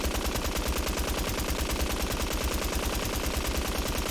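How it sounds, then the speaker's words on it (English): Wasteland Melody's heavy .50 caliber machine gun firing fully automatic in Fallout 4, a fast, steady, unbroken stream of loud chunky shots throughout. "It's a big ass machine gun. So, it shoots by default 50 caliber ammunition, fully automatic rate of fire."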